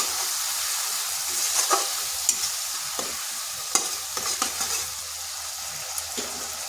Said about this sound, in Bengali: মশলাটা একটু কষে নিচ্ছি।